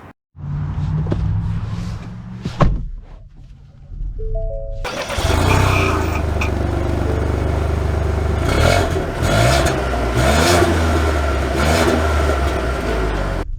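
A 2023 Ford Escape with all-wheel drive starts up, then its engine revs and accelerates in a loud, steady, continuous drone with rising and falling pulls, heard up close without talk.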